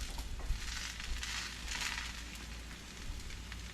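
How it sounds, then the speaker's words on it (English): Hash browns sizzle and crackle in a hot pan, a steady hiss with small pops, fairly quiet and close, with no talking. "Hear that sizzle? That's perfect. You want these pans hot to make hash browns."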